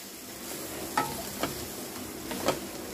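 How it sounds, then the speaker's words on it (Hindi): Spice masala of powdered spices, garam masala and kadai powder being stirred in a frying pan, a low steady sizzle broken by a few scraping strokes of the spoon, close and on its own. "इन सब चीज़ों को अच्छे से मिक्स कर इस मसाले की अच्छे से बुनाई"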